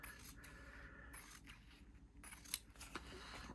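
Scissors snip through fabric and paper for English paper piecing, a few crisp close cuts and scrapes at a quiet level with no talking.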